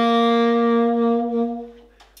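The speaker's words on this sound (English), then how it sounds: "the minor scale from the 6th degree in the major scale is called natural minor, sounds like this" A D natural minor scale played on a single instrument, clear sustained tones moving through the notes and fading out over about two seconds.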